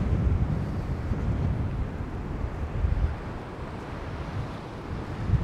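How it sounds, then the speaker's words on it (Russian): Sea surf washes onto the beach at Vityazevo near Anapa, a continuous rushing roar with gentle swells, heard up close with some wind buffeting the microphone. "И шум моря, шум прибоя."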